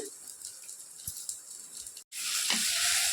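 Dried red chillies and asafoetida frying in a pan of hot oil for a gongura gravy, a steady hiss that cuts out briefly and returns louder and brighter, with faint clinks.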